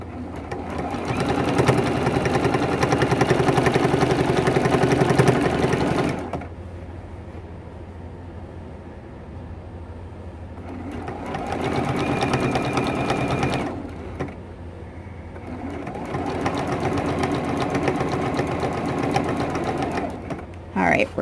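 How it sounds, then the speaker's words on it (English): A sewing machine stitches binding onto a T-shirt quilt in two long runs with pauses between them. The motor hum is steady and fairly close, and a person talks over it. "I'm going to come in and sew all the way down and stop about 1/4 of an inch away from the bottom edge of this quilt"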